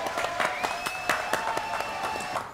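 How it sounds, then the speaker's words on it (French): Audience applause on a television studio set, with crisp rhythmic clapping that sounds partly in time, heard close over a sustained musical tone and fading toward the end. "Applaudissements."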